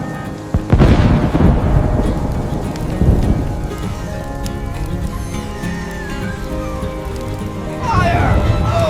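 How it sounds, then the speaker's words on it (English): In a cartoon storm, heavy thunder cracks and rumbles over steady rain, with loud booms near the start and again around three seconds, then rain continues with faint effects on top. "Oh no! Storm coming!"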